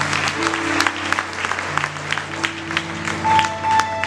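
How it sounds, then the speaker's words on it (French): A church congregation applauds during a sermon, scattered clapping mixed with crowd noise and sustained organ or keyboard tones underneath. "Applaudis la parole de Dieu."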